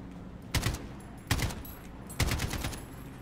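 Video game gunfire aimed at an enemy, three separate loud bursts of rapid shots evenly spaced over a steady background hum, with no talking.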